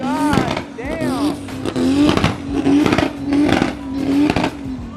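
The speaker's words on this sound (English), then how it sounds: "R34 is revving it" A Nissan Skyline R34 engine revs repeatedly at a car meet in sharp, rising bursts nearby, its roar swelling and dropping several times while people talk over it.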